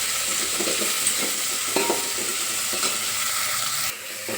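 Tomatoes cooking in hot oil for rasam, a steady close sizzle and frying hiss with a few soft stirring scrapes against the pan.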